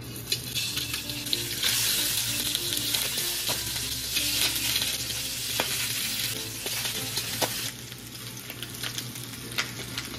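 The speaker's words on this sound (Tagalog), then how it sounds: "lalagay ko yung ating beef para i-sear lang natin ng konti" Beef neck bones sear in a hot pan with fried garlic, a steady close sizzle and crackle running throughout, broken by scraping stirs and small spits of fat.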